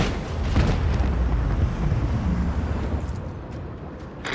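Heavy macro cannon fire from a starship battle in the video game Rogue Trader: a loud, continuous rumbling roar of booming explosions, dense and sustained throughout, easing slightly near the end.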